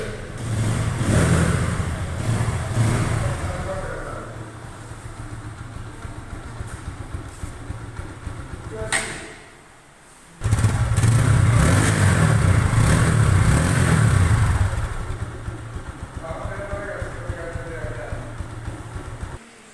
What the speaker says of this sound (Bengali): বাইকটির সাউন্ড কোয়ালিটি কীরকম আছে আপনাদেরকে দেখাচ্ছি